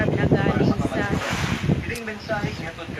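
Strong wind roaring steadily around a house during a storm with red rainfall warnings in Northern Samar, loud and close with buffeting gusts, while a person talks over it.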